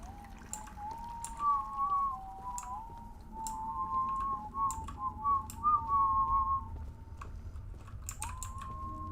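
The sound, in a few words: person whistling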